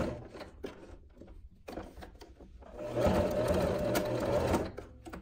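A Janome 15PG domestic sewing machine stitching denim scraps, its motor building to a steady, loud mechanical whir after a few short hesitant bursts, heard close up with no talking.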